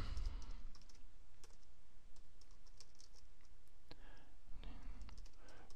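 Rapid clicking from a computer mouse during work in a free online web page editor, a dense run of sharp, close clicks at steady moderate loudness with no talking over them.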